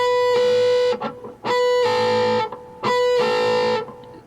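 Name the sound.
distorted electric guitar, botched pull-off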